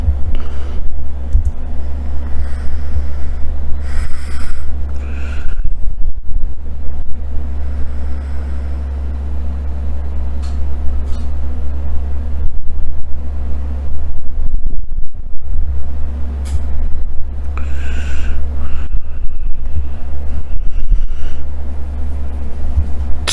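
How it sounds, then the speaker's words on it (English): Idling locomotives stopped after a train derailment, a loud steady low diesel rumble held throughout with some wind buffeting and scattered higher clatter over the top. "the locomotives are still like right now just idling"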